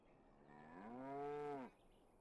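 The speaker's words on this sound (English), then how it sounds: "I love that cow mooing in the background" A cow moos once in a long, rising then steady low call in the Dragon Age: Awakening video game, set back in the background with no talk over it.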